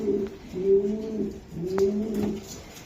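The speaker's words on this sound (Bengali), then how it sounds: "বিআরপিএফসি ক্লাবের 2024 সালে ইয়ং একটা মাদি কবুতর" A young female racing pigeon from a racing club coos in low, throaty rolls, two drawn-out bursts close to the microphone with a brief pause between them.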